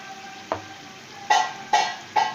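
Green chillies and cumin seeds drop into hot oil in a cooking pot, setting off a low steady hiss with four short bursts of sizzle or stirring, quiet and close, with nobody speaking.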